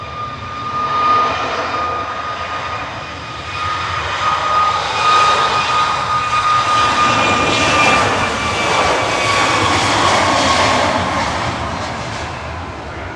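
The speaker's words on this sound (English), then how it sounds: "Departing now is Ryanair to Bucharest, 9HVVR with flight 1271" Ryanair jet 9HVVR, flight 1271 to Bucharest, departs from Manchester Airport, its loud engine roar with a whining tonal edge swelling and holding as it passes close by, without speech.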